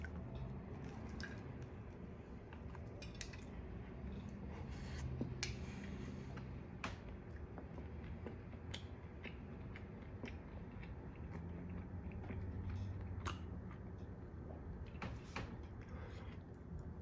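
Crunchy almond croissant being bitten and chewed up close, a run of crisp, irregular crackles and squishy mouth sounds spread across a quiet, low background.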